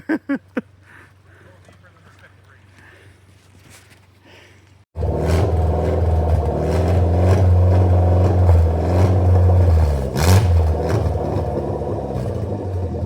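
Vehicle lurching forward as the clutch is dumped during an off-road Gambler 500 spring run; after a quiet stretch a loud engine roar bursts in and holds steady, swelling and dipping slightly.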